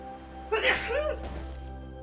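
A single loud sneeze bursts out, sharp and close, followed by a short breathy trailing sound over a steady low background hum.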